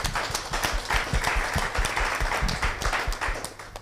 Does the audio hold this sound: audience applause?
yes